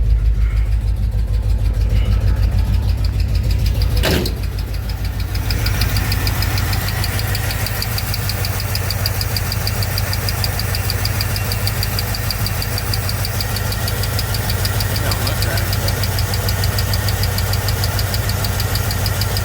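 A K5 Blazer engine runs steadily close by after boiling over, with a low, constant idle drone and a faint rapid flutter from a loose, whipping belt. One sharp knock comes early, and no one speaks.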